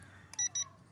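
A drone remote control for a Maxnite E88 drone switches on with two short, bright electronic beeps close together, over a quiet background hum.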